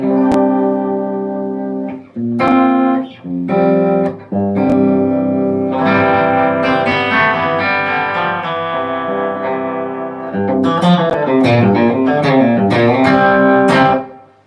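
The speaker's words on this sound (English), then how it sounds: "the standard recognizable tremolo sounds" Electric guitar through a tremolo pedal: chords and a picked melody with a wavering, pulsing volume effect and some reverb, loud and close, with brief pauses between phrases.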